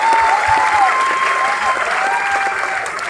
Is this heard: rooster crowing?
no